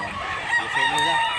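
A Blue Miner bloodline rooster crows once, close and loud, a brief strained call over faint background noise.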